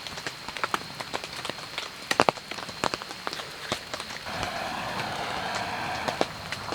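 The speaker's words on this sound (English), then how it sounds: "It is still raining" Steady rain patters on a surface at a campsite, with sharp individual drops clicking irregularly and a denser hiss of rainfall building toward the end.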